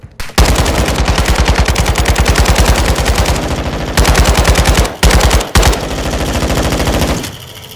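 Sustained automatic fire from an RPK machine gun in a video game raid, long loud rapid bursts with brief gaps and a short pause near the end, no talking.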